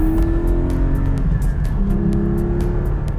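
A 2020 Porsche 718 Cayman GT4 flat-six engine revs hard and close toward its 8,000 RPM redline, a steady high-pitched roar that climbs in pitch, drops briefly at a gear change, then climbs again.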